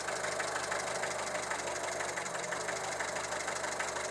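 A carbureted Renault 11 GTL engine idles steadily with a few small misfires, a continuous close mechanical drone with faint irregular knocks and no talking.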